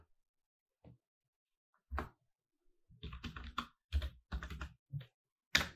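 Computer keyboard typing while code is written for multiple AWS instances with Terraform, heard as short irregular clusters of clicky keystrokes, sparse at first and then denser, close and moderately quiet with no talking.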